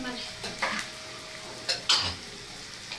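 Vermicelli and rice fry in a pot for Egyptian koshari, stirred with a few brief scraping strokes over a soft, steady sizzle.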